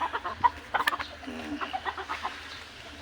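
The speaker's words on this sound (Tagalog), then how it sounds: "Ano to mga manok diri oh" Backyard chickens cluck and chatter nearby in short, uneven bursts, with a few sharper squawks, while a person talks quietly underneath.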